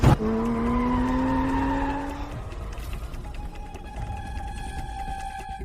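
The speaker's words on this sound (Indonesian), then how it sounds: "Dia mengerem saat masih 20 meter lebih, dia benar-benar takut mati." A race car brakes hard with its tires skidding: a loud, sustained screech rises in pitch for about two seconds, then settles into a fainter lingering tone. No one speaks.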